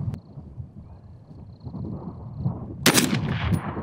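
Single 6.5 Creedmoor rifle shot from a CMMG Mk3 DTR2 fired at an outdoor range, a sharp loud crack with a brief rolling echo over a windy background.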